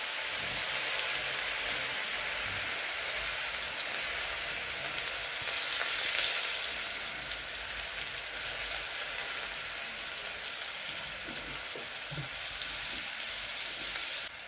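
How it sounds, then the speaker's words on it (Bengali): Beetroot paste sizzling slowly in hot oil in a pan, a steady soft crackle and hiss with occasional stirring sounds, fairly quiet and close, with no talking. "এখন আমি এই সব বাটাগুলো তেলে দিয়ে দিয়ে এবার আস্তে আস্তে আস্তে আস্তে করে ভাজবো"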